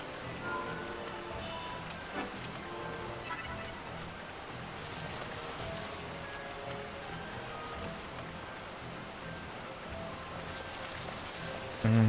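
Steady rain falls in the Final Fantasy 12 game world, an even hiss with patters and scattered chimes and tones from the game, continuing throughout with no voices.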